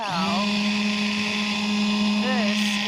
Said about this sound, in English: I've got my immersion blender